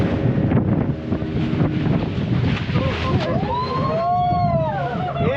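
Sea waves and strong wind at a beach in Malvan, a steady rushing roar with gusts buffeting the microphone throughout, loud and close, with faint voices underneath.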